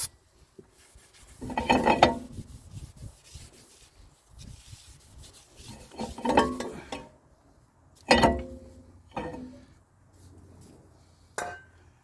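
Rear brake rotor being scrubbed clean on a 2010 Toyota Corolla 1.8 during a drum-to-disc conversion, giving several separate bursts of close rasping, rubbing strokes with quiet gaps and light metallic clinks between them.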